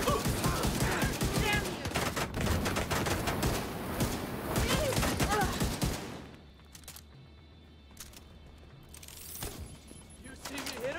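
Video game gunfire bursts in loud, rapid volleys for several seconds, drops to a quieter lull, then returns with a few scattered shots, with game voices faintly present underneath.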